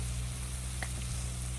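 Beef fried rice cooks on a Blackstone griddle, giving off a steady, faint, hissing sizzle with a low hum underneath and one brief soft scrape partway through.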